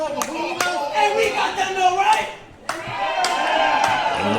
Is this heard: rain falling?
no